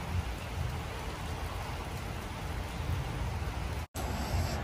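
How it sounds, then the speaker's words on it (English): Steady rain falls outdoors near a school hill with a constant dense hiss of drops hitting surfaces, close and fairly loud, broken by one very brief dropout near the end. "and it's raining"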